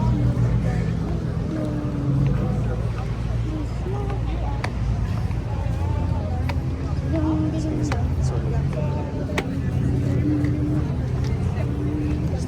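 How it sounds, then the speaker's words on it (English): A couple of turbocharged Porsches pass on a street in Monaco, their steady engine roar loud and continuous, mixed with traffic and background crowd noise. "It's the turbo. It's a couple Porsches."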